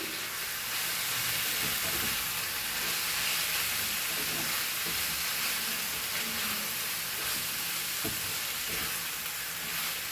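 Goan pork chilli fry sizzling steadily in a hot pan, a continuous bright hiss with intermittent stirring scrapes and clicks, no talking.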